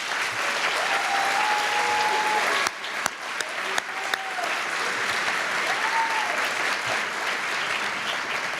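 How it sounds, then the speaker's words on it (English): An audience at an awards gala gives sustained, dense applause for the night's honorees, steady clapping throughout with a few brief sharper claps and a short dip partway. "Please join me once again in a round of applause for all of tonight's honorees."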